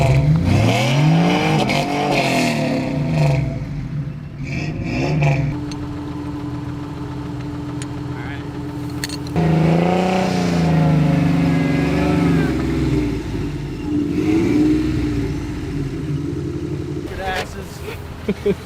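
A Volkswagen kit car built into an off-road 4x4 revs its engine while tugging, with the engine note climbing and dropping in long surges and holding steady between them, and people talking over it.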